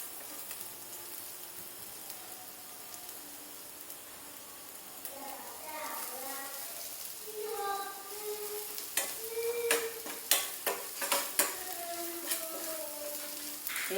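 Cauliflower and other vegetables sauté in a hot pan for low-carb upma, a soft steady sizzle with a spoon scraping and stirring that grows busier and louder toward the end, heard close up.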